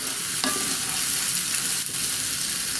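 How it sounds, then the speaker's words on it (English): Liquid poured into a hot pan while cooking cheese curry pork, a steady loud sizzle and bubbling hiss with a brief scrape of stirring, no voices. "Start deglazing that bottom a bit."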